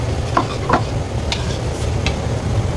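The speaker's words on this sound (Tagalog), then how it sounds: "Ihalo lang po natin ang ihalo ito para matunaw." Soft scraping strokes of a utensil stirring a buko pie filling in a pot to dissolve it, a few distinct swipes over a steady low hum.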